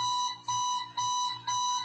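An alarm clock rings in repeated bursts of bright electronic beeping, about four pulses in under two seconds, loud and close with no talking.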